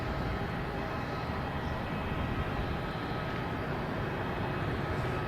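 A Southwest airliner arriving at Boston Logan Airport from Chicago Midway, a steady broad jet roar at moderate distance, holding level without breaks and with no voices.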